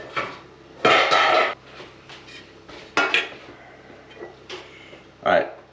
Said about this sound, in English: Now I'm going to put my dough hook on there.